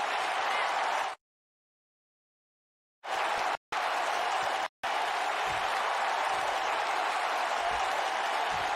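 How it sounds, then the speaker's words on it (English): A WWE SmackDown arena crowd applauds the tag team champions with dense, steady clapping. Abrupt silent gaps break the applause, once for about two seconds and twice more very briefly. "Clap for your tag champs."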